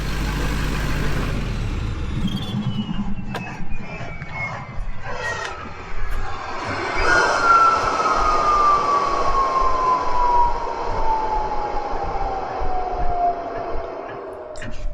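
A truck fitted with a 5-inch exhaust shuts off, its turbo spooling down in a long, falling whine that starts loud and close and fades over about eight seconds, over a low engine rumble and outdoor noise, with no talking.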